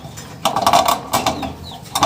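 A racing pigeon arrives at the loft after a 140 km flight from Pililla, Rizal. There are a few short bursts of fluttering and flapping, each close and brisk and separated by brief quiet gaps.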